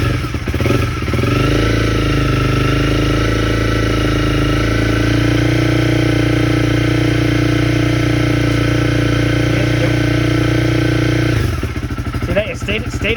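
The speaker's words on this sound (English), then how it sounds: "So you hear the engine kind of unstable because it's getting richer." A Honda CB300R motorcycle with a high-compression piston idles close by with a loud, steady but uneven engine note that rises in pitch partway through, then falls back near the end, with a voice speaking briefly at the start and finish.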